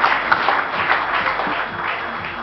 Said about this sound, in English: Can we have a huge round of applause for all of our winners, as well as all our nominees and our presenters